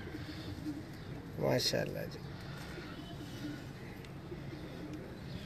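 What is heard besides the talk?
pigeons cooing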